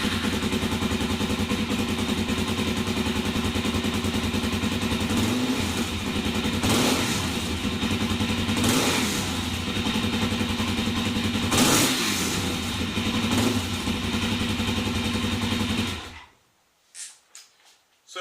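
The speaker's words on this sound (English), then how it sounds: "I will show you how the bike sounds now when it's all said and done" A Suzuki DRZ400S motorcycle with a modified exhaust idles steadily and close, its engine note rising in several short revs before cutting off abruptly near the end, leaving a few faint clicks.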